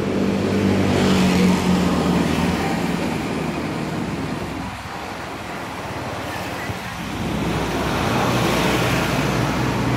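Steady road noise of cars and motorcycles on a busy street in Phuket, Thailand, a continuous close wash of passing vehicles that swells and dips, with faint voices underneath.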